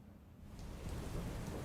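Rain falls over Mangrol in Junagadh district, Gujarat, a steady close wash swelling after a moment, with a low rolling thunder rumble underneath and no talking.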